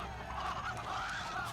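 Roosters, a black one and a brown one set to fight, give a run of harsh squawking calls, loud and close, over a steady low background rumble.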